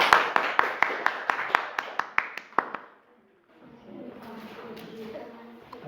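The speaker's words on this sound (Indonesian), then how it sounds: "tepuk tangan dulu untuk kelompok 2" A classroom claps for a student group in a loose but steady rhythm of sharp handclaps for about three seconds, then falls quiet before soft voices and room murmur come up.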